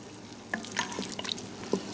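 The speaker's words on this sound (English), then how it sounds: "We're just going to let it kind of simmer and reduce down." Au jus liquid bubbles and sizzles in an Instant Pot on high sauté, with soft pops and irregular crackles at moderate volume and no talk.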